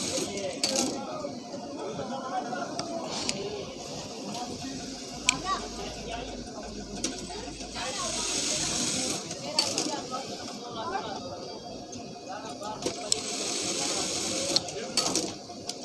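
A Siruba overlock sewing machine's handwheel is turned by hand while screws are tightened, giving soft repeated ticking and clicking mechanism sounds under a person talking throughout.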